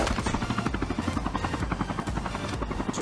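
Helicopter rotor chopping steadily in the Call of Duty Mobile video game, a loud continuous rhythmic thumping with buzzing engine drone throughout.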